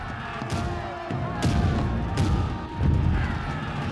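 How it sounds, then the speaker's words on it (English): Government artillery cannons firing at the Battle of Culloden, with ten guns keeping a steady rhythm, sound as a series of heavy booms and thuds over rumbling battle noise. "the government artillery kept up a steady rhythm of 1 round a minute with the 10 guns"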